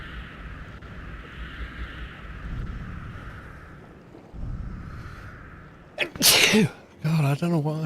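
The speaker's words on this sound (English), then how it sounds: "God, I don't know why I am sneezing that hard." A single hard, explosive human sneeze, loud and close, bursting out near the end after a stretch of quiet background noise, with a brief voiced sound following it.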